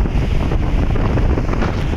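Strong wind buffets the microphone in loud, continuous gusts, roaring and rumbling throughout.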